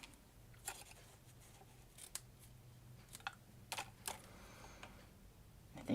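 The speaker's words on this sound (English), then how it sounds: "Scissors." Scissors cutting foil and pattern paper to make a small flag: faint, close, crisp snips scattered irregularly over a quiet background hum, with no talking.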